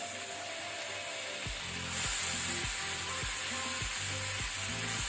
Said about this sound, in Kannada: ಇದನ್ನೀಗ ಸ್ವಲ್ಪ ಕಲರ್ ಚೇಂಜ್ ಆಗೋ ತನಕ ನಾವು ಫ್ರೈ ಮಾಡಬೇಕು